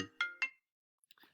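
A phone ringtone chimes a few quick bright tones, loud and close, followed by a short silence and a faint trailing electronic blip.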